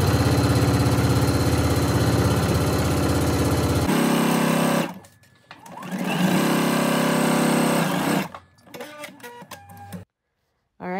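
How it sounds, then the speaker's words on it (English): A sewing machine stitching together the center back seam of a garment: a loud, steady mechanical whirring that pauses briefly around the middle, then resumes before stopping in short bursts near the end. "take that to your sewing machine and stitch it together"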